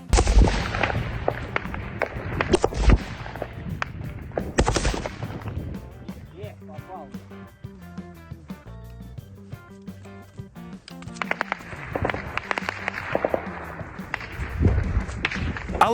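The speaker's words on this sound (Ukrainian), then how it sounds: "Цього разу вогонь відкрили бійці Белгородської тероборони" Bursts of rapid gunfire from Belgorod territorial defence troops firing at a drone crackle loudly at the start and again near the end, with a quieter stretch of scattered shots and tones in between.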